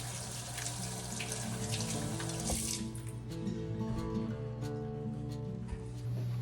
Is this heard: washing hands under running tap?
yes